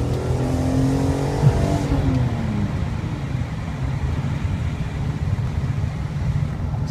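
BMW E46 M3 engine on a twisty road north of Manhattan, pulling hard in a lower gear with rising then falling tones, steady loud cabin drone and road rumble throughout.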